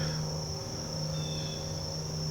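Insects chirp in a continuous high, steady drone outdoors, with a low hum underneath and no talking.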